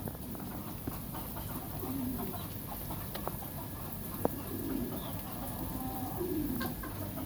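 Chickens kept behind a fence alongside pigeons on a rural property, with soft clucks and brief calls rising over quiet outdoor background, fairly distant and faint, without talk.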